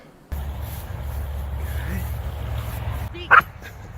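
A German Shepherd gives a single short, sharp bark on cue during a training session, close by, near the end after a stretch of quiet background noise.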